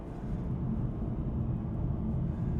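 Low, steady droning rumble heard from the back seat of a moving car, a deep resonant hum filling the cabin without any talking.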